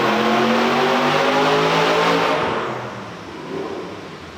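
A twin-turbo drift Mustang revs hard on a dyno, its loud engine note climbing through a sustained run before easing off toward the end.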